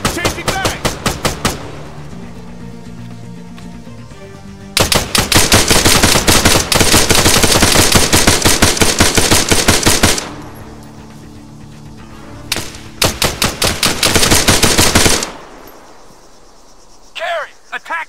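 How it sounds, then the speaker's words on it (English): Machine guns fire in the video game Arma 3 in long, loud bursts of rapid shots. Several barrages run for seconds at a time, separated by brief pauses, with no speech. "Contact! Contact! Machine gunner!"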